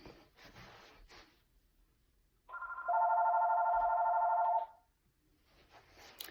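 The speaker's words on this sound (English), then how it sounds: "now my home phone is ringing." A home landline telephone rings with one sustained electronic ringing burst, loud and close, between quiet stretches with faint background sounds.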